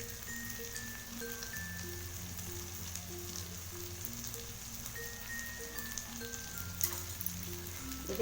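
Goat brain masala fries in a pan with a steady, close sizzle and soft crackle that holds even throughout, with no voices.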